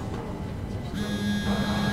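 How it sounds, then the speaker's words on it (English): A phone rings in the horror video game SOMA, a steady electronic buzzing ring tone rising over low ambient game drone, fairly clear and sustained. "Oh. Phone call."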